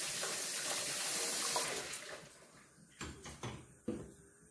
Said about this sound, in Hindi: नाज़रीन अब हमने पैन में दूध डाल देना है।